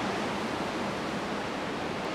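Hesjedals waterfall rushes beside a mountain road in Norway, a steady broadband roar of falling water heard at moderate level with no breaks, no talk over it.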